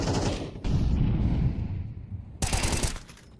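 Rapid M4 rifle gunfire from a Counter-Strike match, two dense bursts of close, loud automatic shots separated by a brief lull with fading echoes and clatter.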